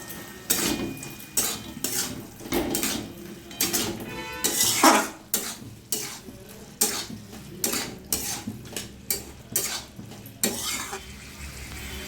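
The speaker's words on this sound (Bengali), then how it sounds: "দিয়ে দেবো স্বাদ মতন চিনি, ভালো করে নেড়ে নেবো।" Banana stem curry with sugar being stirred in a pan on the stove, a steady run of scraping and clinking utensil strokes against the metal over a faint sizzle, close up with no talking.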